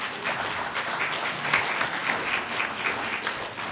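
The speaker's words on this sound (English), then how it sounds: "Yes, we can clap." A crowd at a high school equivalency graduation ceremony applauds steadily as graduates rise, a dense, even wash of clapping filling the hall with little speech.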